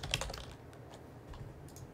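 Quiet, close keystrokes patter on a computer keyboard as a chat message is typed, in short uneven bursts with no voices.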